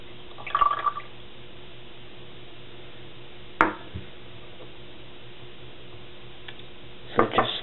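A glass stir rod stirs a copper sulfate solution in a beaker, making a few sparse, faint clinks and taps separated by quiet gaps.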